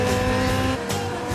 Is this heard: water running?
no